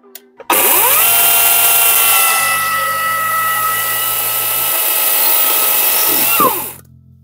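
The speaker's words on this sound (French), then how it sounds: "Je mets pas de casque parce que les tronçonneuses électriques ça ne fait quasiment pas de bruit." An electric chainsaw cutting wooden posts, a steady loud whine rising to full speed for about six seconds before winding down, close by with no talk.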